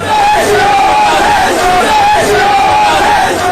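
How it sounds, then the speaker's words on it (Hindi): An angry crowd of protesters outside a police station shouts religious slogans, a loud, continuous wall of massed voices with no pauses. "हत्या से नाराज लोगों ने धार्मिक नारे भी लगाए।"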